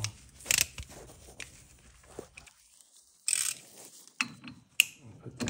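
A ratchet wrench tightening a nut on a tie rod of a 2006 Honda Civic Si, close clicking pawl bursts in short spurts separated by pauses, with a few metallic clanks and handling noises.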